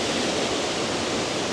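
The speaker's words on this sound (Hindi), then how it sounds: "और जिस तरीके से झरना बह रहा है" A roadside mountain waterfall in Uttarakhand, on the way from Mukhba to Rishikesh, roars as a loud, steady, close rush of falling water that fills the whole moment with no voices.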